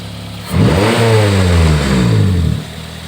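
A Daihatsu Gran Max pickup engine with rough running and weak pulling power is revved once close by, rising from idle into a loud sustained drone that falls back to idle after about two seconds.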